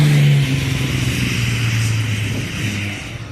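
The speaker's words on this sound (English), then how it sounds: "Classic Jaguar engine in the front of it" A modified soft-top Jaguar E-Type with a classic 4.2 Jaguar engine roars close and loud on a hillclimb run, a steady low engine note holding then shifting pitch as it pulls away.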